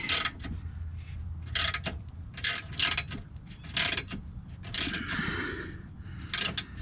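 Bolts on a Per4mance differential brace being tightened with a ratchet, giving several short bursts of clicking spaced irregularly across the clip, close up and fairly loud over a low background hum.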